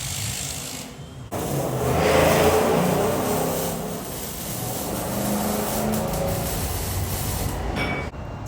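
Straight-piped exhaust on a cammed Jeep Grand Cherokee SRT8 rumbling and revving close by, a loud, steady, deep roar after a brief lull near the start, with no talking over it.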